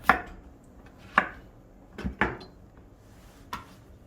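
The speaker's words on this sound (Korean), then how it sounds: "썰어 보도록 할게요" A knife chops vegetables for spicy japchae on a cutting board, four sharp separate knocks spaced unevenly over a few seconds with quiet gaps between them.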